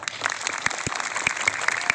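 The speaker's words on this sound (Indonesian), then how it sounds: "Tepuk tangan." Clapping from a gathered audience of schoolchildren at an Islamic religious talk, a short burst of scattered, uneven hand claps with distinct individual claps standing out.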